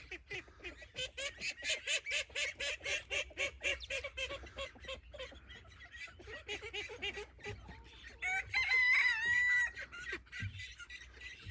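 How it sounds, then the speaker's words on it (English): A group of ten chickens on a hill-top farm, newly bought at a poultry auction, cluck loudly and close by in a rapid, steady run of repeated calls, ending with a sharper, higher squawking burst. "So we've got 10 chickens in total."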